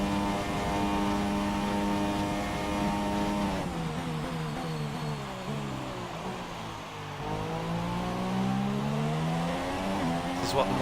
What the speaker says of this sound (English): This is what the McLaren will sound like this season as well